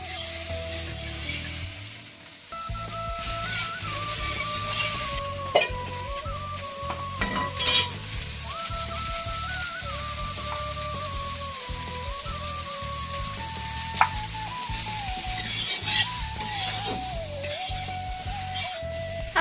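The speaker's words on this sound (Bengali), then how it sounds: "এবার ফুলকপি আলুতে ঝোল হচ্ছে" A cauliflower and potato curry simmers and sizzles in a pan, a steady frying hiss with occasional utensil clinks, while faint voices talk in the background.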